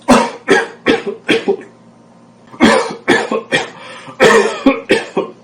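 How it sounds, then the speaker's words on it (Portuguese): A sick person coughs hard in rapid fits, a cluster of harsh close coughs, a short pause, then another long volley of loud chesty coughs. "o contágio também pode acontecer por meio da tosse da pessoa doente"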